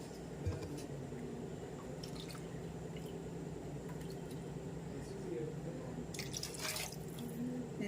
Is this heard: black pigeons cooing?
no